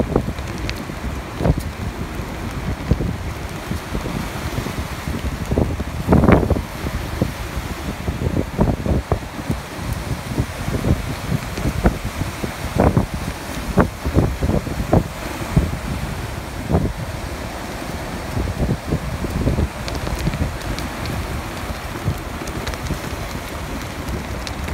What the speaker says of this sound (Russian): Очень сильно дует.